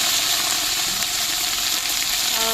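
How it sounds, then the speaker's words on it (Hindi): Onions fry in a hot pan as ginger and garlic go in, a loud continuous sizzle with hissing steam, close and steady throughout, no voices over it. "प्याज हमारे हो गए फ्राई, अभी डाल दें इसमें अदरक लहसुन"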